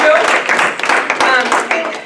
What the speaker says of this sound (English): So everybody should get an applause for everything you put up with this year.